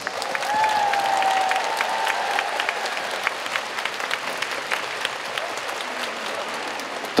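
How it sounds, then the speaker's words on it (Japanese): Large arena crowd of fans applauding at a concert on a Japanese arena tour, a dense steady wash of clapping lasting throughout with a few high cheers and whistles near the start. "大きな拍手をお送りします。"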